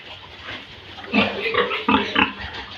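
Pigs on a farm grunt and oink in a cluster of short, close calls, rising to louder squealing grunts in the second half over a low background murmur.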